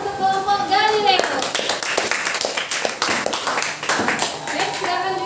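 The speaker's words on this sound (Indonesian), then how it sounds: "Sekali lagi kita berikan aplaus untuk kelompok Galileo." A classroom of students applauds for a presenting group in a school lesson, a dense burst of many hands clapping that swells after an opening voice, with talk mixed in throughout.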